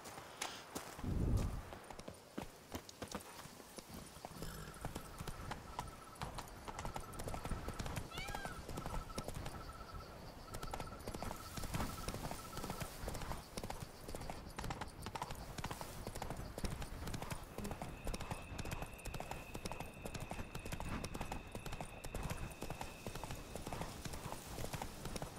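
Horse hooves clip-clopping steadily in The Witcher 3: Blood and Wine as Roach walks, a continuous rhythmic patter over ambient game sound with an occasional faint whinny.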